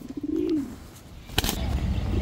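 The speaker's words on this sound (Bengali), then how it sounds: "এরপরে চুইনা চুইঠাল বিগ সাইজের ঝোপ্পা মুজোওয়ালা একটা মাদি কবুতর" A large female pigeon with a big crest coos softly and close by, one low rolling coo, followed by a brief rustle or flap and more low murmuring.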